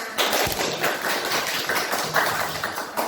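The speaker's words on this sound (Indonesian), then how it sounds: "Tepuk tangan." A classroom of schoolchildren claps hands together in a dense, uneven patter of many small claps, loud and close, sustained for a few seconds without speech on top.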